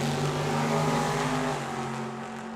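Two drag racing cars, one a Corvette, launch and roar down the strip at Tucson Dragway, a loud, dense engine blare with a steady pitched drone that fades slightly as they pull away.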